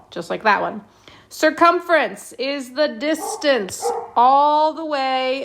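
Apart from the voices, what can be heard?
dog barking in the background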